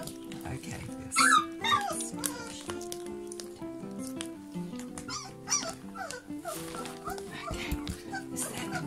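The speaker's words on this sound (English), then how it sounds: "Oh, that's a hungry puppy." Hungry borzoi puppy whimpering and yelping in short bursts while feeding, close by, over a busy background with a person talking softly.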